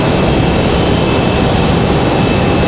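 Jet airliner in Super Mario Brothers livery at an airport, a loud, steady engine roar with a broad rushing hiss and a thin high whine, close and unbroken.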